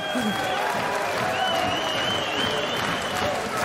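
Loud applause and cheering from a large crowd at a fight event, sustained clapping filling the whole stretch with some crowd voices mixed in.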